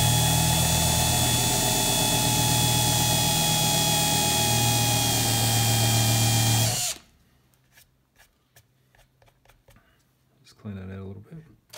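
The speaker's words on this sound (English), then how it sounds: "And once you've got a start, you can speed the drill up a bit more." A power drill spins up fast while boring a pot hole in a semi-hollow guitar body, a loud continuous high whine lasting about seven seconds, then cutting out to quiet handling taps and a brief low rumble near the end.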